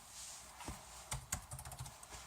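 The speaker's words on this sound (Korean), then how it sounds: "헬로우라는 말을 입력을 해서 엔터를 치게 되면" A computer keyboard is typed on in a short run of light, close clicks, ending with a firmer keystroke like Enter, in a quiet room with no speech.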